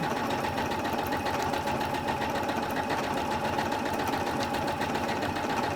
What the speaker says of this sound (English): Put my lock stitch on now.